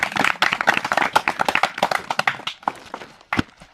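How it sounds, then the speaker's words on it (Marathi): A small audience claps to welcome a poet at a farm gathering. The claps come as a quick, uneven run of sharp, fairly close hand slaps that thin out and end with a last few scattered claps. "त्यांचं टाळ्या वाजून एकदा स्वागत करावं सगळ्यांनी"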